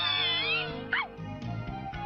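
A cartoon cat meows in a Shinchan episode, a clear rising-falling meow near the middle, with a thin high whistle-like tone and soft background music around it and no talking.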